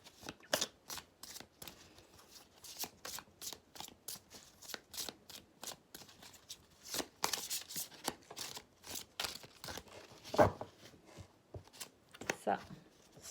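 Tarot cards being shuffled and drawn from a deck close by, with a rapid series of soft, papery flicks and slaps, separate riffles and snaps in bursts, and a voice talking quietly over them.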